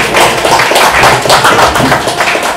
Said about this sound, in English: So a round of applause for the star cast here